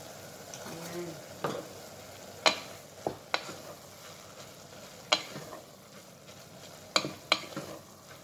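Meat fries gently in a pan with a soft, steady sizzle, while a spoon scrapes and knocks against the pan in scattered sharp taps and strokes.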